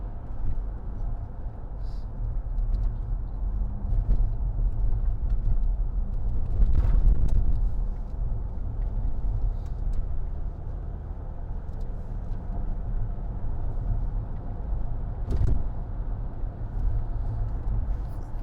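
A 2010 Range Rover Sport 3.0 TD V6 HSE diesel drives over a very bumpy road, giving a steady low engine and road rumble with occasional thumps and jolts from the cabin, continuous throughout.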